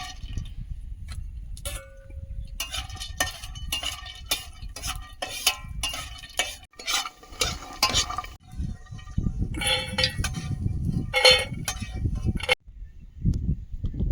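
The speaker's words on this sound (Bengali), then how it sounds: "ওই তেলে উচ্ছেটা ভেজে নেবো" Bitter gourd frying in oil in a wok gives a steady, crackling sizzle throughout, joined by frequent clinks and scrapes of a spatula against the metal pan.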